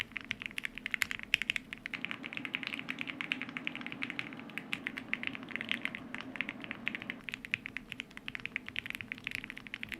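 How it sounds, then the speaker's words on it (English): Rapid clacking keystrokes on a stock mechanical keyboard with Gateron Milky Yellow switches, a dense steady stream of taps up close with no voices. "the keyboard as it is without any upgrades whatsoever with the Getgo Milky Yellows to figure out what the keyboard sounds like"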